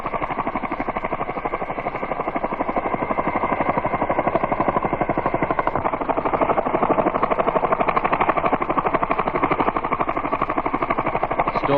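Military resupply helicopter of a US Army aviation unit, its rotor beating in a fast steady chop with continuous turbine roar, loud and close throughout, no voices.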